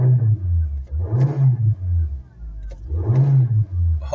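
A 2014 Nissan Versa Note S engine with 118,000 miles revs up twice, rising in pitch and roaring loudly each time, then dropping back to a low idle rumble between pulls.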